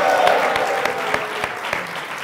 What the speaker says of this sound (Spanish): Un aplauso para Mariano,